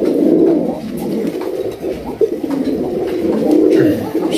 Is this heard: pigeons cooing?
yes